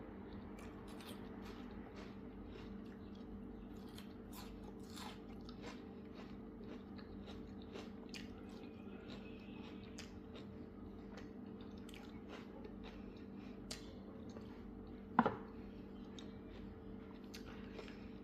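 Crunchy bites of a fresh vegetable salad with violet onion, steady close chewing and crisp crunching that runs throughout, with one sharper, louder crunch near the end and no talk.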